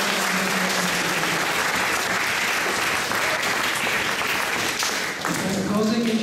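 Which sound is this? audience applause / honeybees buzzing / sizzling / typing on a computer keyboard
audience applause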